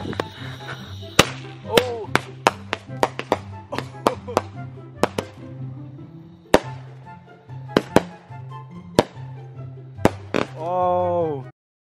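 A Fourth of July fireworks cake fires a rapid string of sharp cracking shots, loud and close with an irregular rhythm, ending in a crackling, whistling burst, while voices speak now and then.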